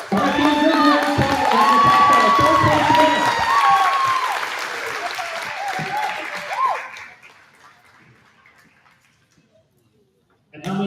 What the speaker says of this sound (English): give a great round of applause for the first place winner